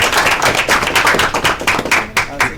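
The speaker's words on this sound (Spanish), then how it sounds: "un aplauso." Applause breaks out at the close of an online Spanish-language interview, a quick burst of clapping with uneven hand taps over about two seconds, close and fairly loud.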